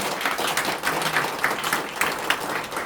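A church congregation at a large Korean prayer rally applauds together, a steady dense wash of clapping from many hands that holds evenly at moderate loudness throughout, with no talk over it.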